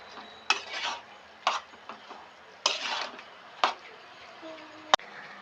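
Utensil scraping and clinking against a pan as cabbage is stirred with salt and turmeric, in several short bursts with gaps between, at close range.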